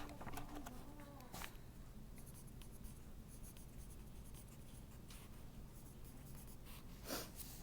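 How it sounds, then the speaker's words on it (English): A pencil writes an answer on paper, producing close, continuous scratchy strokes with small pauses between them, quiet but clear against a faint room hum. "let's write that in that answer."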